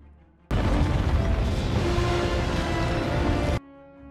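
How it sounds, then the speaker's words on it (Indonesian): A loud, sustained black powder explosion in a monster film roars for about three seconds with dense rumbling, starting abruptly and cutting off sharply. "bubuk hitam pun meledak hingga membuat sang ratu hancur berkeping-keping"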